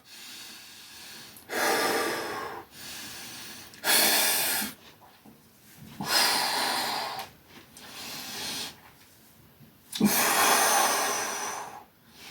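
Forceful breaths heave in and out during a Bullworker Isokinator exercise, coming as about five loud bursts spread several seconds apart, with quieter stretches between them. No one talks.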